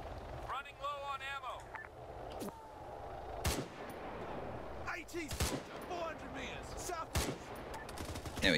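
Gunfire in the military game Arma 3 sounds as sharp, loud shots scattered through a battle soundscape with wind noise, while someone talks over it.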